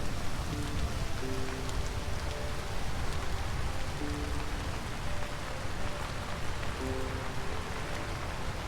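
Steady rain falls in the survival video game Vintage Story, a dense, even hiss of drops that holds for the whole stretch, with faint tonal game music notes drifting underneath.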